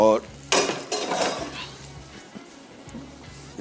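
A metal baking tray is pulled from an oven in a home kitchen where crunchy honey chicken is baking, giving a sharp metallic clatter and scrape up close, followed by lighter knocks and rattles of metal against metal.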